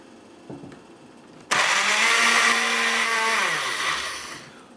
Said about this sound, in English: Now we put the lid on the blender and switch it to sauce mode.